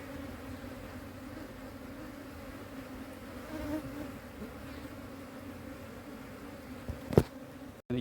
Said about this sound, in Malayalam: കണ്ടോ, വളരെ ശാന്തരായ തേനീച്ചകളാണ്. കരിഞ്ഞൊടിയനാണ്.